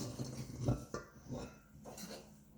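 Goldfish crackers and snack mix being stirred in a bowl, giving a few soft, scattered rattling scrapes and crunchy shuffles close by in a quiet kitchen.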